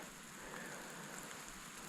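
Steady rain falls outdoors on a Colorado mountain trail, a soft, even, continuous hiss of drops with no other sounds.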